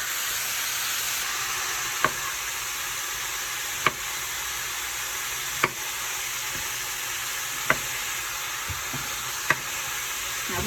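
Steak sizzling in a pan with cooked-down vegetables for pepper steak, a steady bright hiss of frying broken by a few sharp utensil knocks against the pan every couple of seconds, close and without talk.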